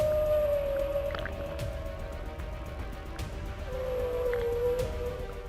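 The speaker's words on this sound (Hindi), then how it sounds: "तेज आवाज बड़े व्हेल की थी, जबकि हल्की आवाज उसके बच्चे की।" Whale song from an adult whale and its calf in the sea: a long, steady tonal moan that sweeps in pitch, returning after a pause, over a deep rumbling underwater background.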